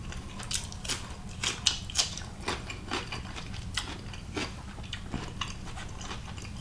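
Someone bites and chews a mouthful of beef stew with tendon, close, soft irregular crunchy chewing clicks over a low background hum, with no speech.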